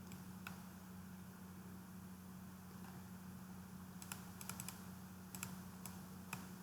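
Computer keyboard typing, a few sparse clicks and repeated key presses like enter, quiet and close over a steady fan hum.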